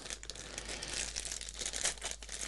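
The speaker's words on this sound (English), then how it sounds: "let's do a child-proof plastic bag." A child-proof plastic bag holding a TiVo Stream 4K crinkles and rustles steadily as it is handled and opened, soft close-up crackling over a low hum, with no talk.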